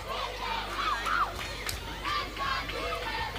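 Crowd noise at a netball match between Dominica and St Maarten, a steady murmur of spectators with bursts of shouting and cheering that rise and fall over a continuous rumble.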